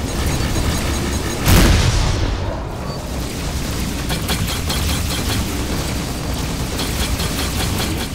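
A sudden loud missile blast in the space-combat game Rebel Galaxy Outlaw, one sharp booming impact early on, followed by a sustained rumbling roar of ship combat with rapid crackling weapon fire.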